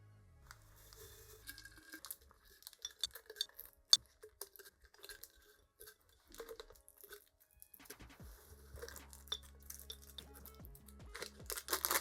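A glass jar is filled with small items for a Valentine's gift, producing sparse close clinks, light taps and rustling crunches spread unevenly, with no talking.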